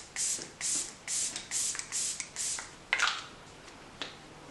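Several short hissing bursts of a spray bottle, close by, in a quick rhythm followed by a couple of softer puffs.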